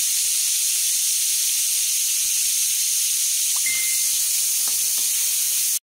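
Onion sautéing in a pan for ginataang isda, a steady bright sizzle and hiss running without a break, with a few faint stirring clicks and scrapes, no voices.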